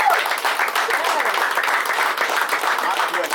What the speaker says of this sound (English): we can clap it up one more time for 18 years.